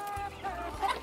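Laying hens in a backyard coop give a couple of short, close clucks in a brief burst, with faint background noise and no clear talk.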